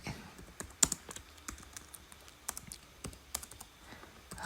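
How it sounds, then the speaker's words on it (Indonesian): Steady, close keystrokes on a computer keyboard while entering text during an operating-systems file-operations exercise, irregular clicks at a moderate pace with no voices. "Jadi kita ketik"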